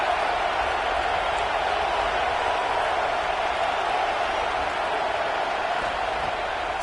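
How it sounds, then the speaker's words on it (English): A college football stadium crowd roars in a steady, dense wash of noise as the home fans try to keep the opponent pinned deep, with a commentator speaking over it. "this crowd trying to help keep them there"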